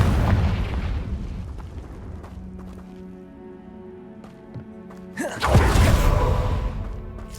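A Confringo fire spell explodes in Hogwarts Legacy: a rumbling blast opens the scene, faint game sounds follow through a quieter stretch, then a second loud, close explosion bursts and roars on to the end.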